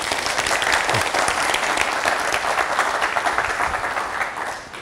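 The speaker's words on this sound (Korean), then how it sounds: "여러분 박수 쳐주시기 바랍니다" A lecture audience at a chemical, textile and food workers' union event breaks into sustained applause, dense and steady clapping from many hands filling the room from start to finish.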